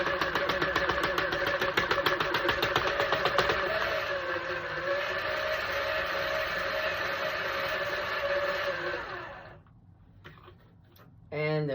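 Knitting machine running while knitting a beanie, a loud steady mechanical whirring and rapid clicking that carries on for about nine seconds, then stops, followed by a brief clunk.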